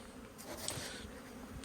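Honey bees buzzing around hives, a soft continuous drone heard close but faint, without talk over it.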